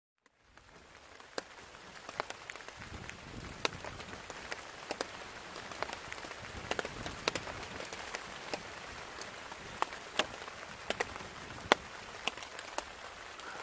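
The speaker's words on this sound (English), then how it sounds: "It's raining still." Steady rain patters on surfaces around a campsite during a solo hike on Nebo Ridge Trail, a continuous hiss broken by frequent sharp drips and taps, no voices.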